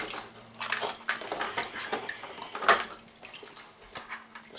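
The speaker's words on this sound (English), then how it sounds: "Also give the water a bit of a stir." Water stirred by hand in a tub during a gas mask soak test, a close series of irregular sloshes, swishes and drips, moderately quiet and without talk.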